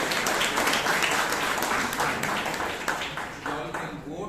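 A room of attendees at a Toastmasters meeting in Bangalore breaks into a round of applause, a dense patter of clapping that starts strong and gradually thins out toward the end.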